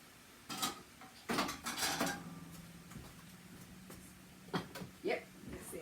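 A metal lid clatters onto a cooking pot in a home kitchen, several light clanks and scrapes in quick succession, faint and close, with a quiet hum beneath.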